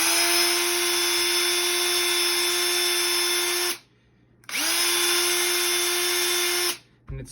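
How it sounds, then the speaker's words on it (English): A power drill bores a hole in a freshie, whining loud and steady at close range in two long runs separated by a short pause, with a brief restart at the end. "but then you just take it, put your drill down."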